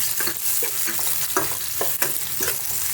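Chopped tomatoes and grated ginger frying in a pan for a potato and green pea curry, with steady close sizzling and repeated stirring scrapes at an irregular rhythm, no voices.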